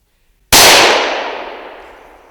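A single sharp gunshot rings out close by during a squirrel hunt in hardwood mountain forest, a sudden loud crack that decays over about two seconds with no talking.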